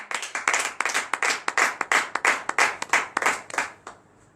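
Small congregation at a morning prayer service clapping in a fast, loose rhythm, about twenty sharp close claps over four seconds before stopping, with no talk over them.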